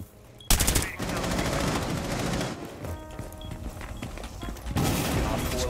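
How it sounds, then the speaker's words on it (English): Rapid gunfire from a shotgun in a multiplayer shooter video game, a loud burst of repeated shots starting abruptly and continuing steadily, with a second louder volley near the end. "I didn't know Jackal had a shotgun as well."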